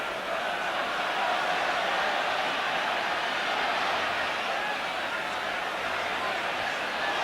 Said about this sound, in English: Arsenal crowd reminding us of the score.